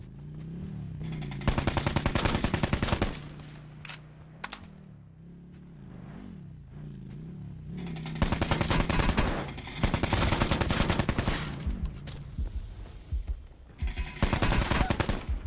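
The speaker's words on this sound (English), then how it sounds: "That was an ugly gunfight." Heavy automatic gunfire during a Call of Duty Blackout gunfight, loud sustained bursts of rapid shots broken by short lulls with quieter movement between them.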